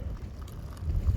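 Wind blowing at a wild camp beside Loch Trool in Glen Trool, Galloway, Scotland, a steady low rumbling buffet against the microphone that swells slightly toward the end, with no other sounds.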